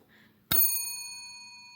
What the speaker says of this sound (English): Another original item that we've got from the library is the librarian's bell.